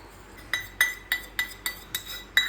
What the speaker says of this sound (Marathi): लक्षात असू द्या हा चमचा आपल्याला ढवळत राहायचा आहे